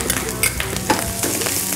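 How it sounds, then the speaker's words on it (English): Onions and garlic sautéing in a hot pan, a close, steady crackling sizzle broken by a few scraping stirs and small pops, with no voices. "we can already start sauteing the garlic, onions"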